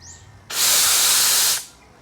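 A loud, steady hiss of escaping air or gas from the exhaust head of a Yamaha engine being checked for a leak, starting abruptly, holding for about a second, then cutting off, close and alone.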